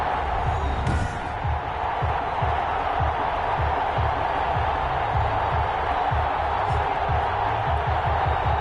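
Stadium crowd in an American football video game, a continuous broadband roar of cheering that holds steady for several seconds, with rhythmic low thumps underneath.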